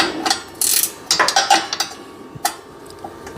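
Loosening bolts on a Husqvarna MZ6128 zero-turn mower: a run of close metallic ratcheting clicks and clanks from a hand tool, a quick burst followed by sparser ticks, heard alone without talk.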